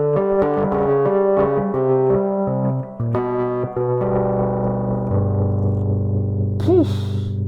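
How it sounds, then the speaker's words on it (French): Synth notes and chords from an Akai MPC Live processed with a spring reverb effect: bright, sustained tones with a metallic, splashy tail, ending in a warbling, boingy ring and a droning low note. "Et puis il y a une spring reverb."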